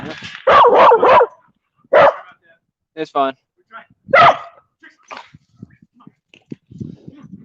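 A dog barks in a quick burst of three loud, close yaps, then gives a few more single barks, with someone talking in between, outdoors on a fishing trip.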